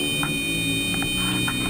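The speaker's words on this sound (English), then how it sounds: "Suddenly, the alarm sounds." An aircraft alarm sounding in a plane: a steady, loud electronic buzzing tone held for under two seconds, close and continuous with no voices.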